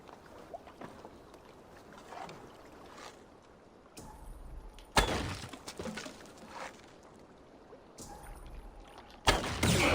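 A huge, poorly anchored chain in Assassin's Creed Valhalla is shot and breaks away: sharp shattering cracks with metallic crashes near five and nine seconds over quiet watery ambience, no talk.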